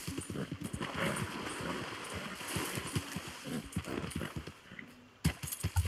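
Horse hooves clip-clopping in Red Dead Redemption 2, a steady run of close, loud hoofbeats that stumbles briefly near the end, with game ambience beneath.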